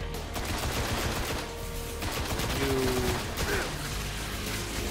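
Dense gunfire in the Destiny video game, sustained bursts and rattling shots loud and continuous throughout, with game effects layered in and faint talk underneath.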